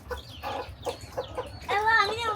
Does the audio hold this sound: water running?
no